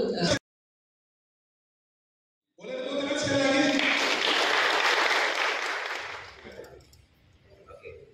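Audience applause at a Digital Evangelism training and communication seminar, rising into a sustained, dense burst of clapping after a brief silence, then tapering off under faint murmuring.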